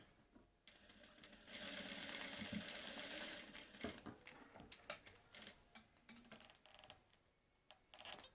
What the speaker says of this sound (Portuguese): vou passar uma costura com um pé de máquina